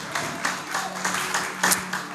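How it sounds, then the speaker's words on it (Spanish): A church congregation claps during a morning service, a moderate, uneven patter of hands with voices mixed in. "Dale un aplauso al Señor fuerte en esta mañana."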